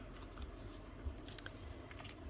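Scissors cutting out paper specimen cards, a few soft close snips spaced about half a second apart over faint room noise.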